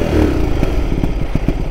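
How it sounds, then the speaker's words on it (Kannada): A motorcycle with a petrol flow problem is revved, giving a loud, close, rough engine roar with rattling, uneven pulses. "ಹಾಂ, ಗಾಡಿ ರೇಸ್ ಆಗ್ತಾ ಇದೆ."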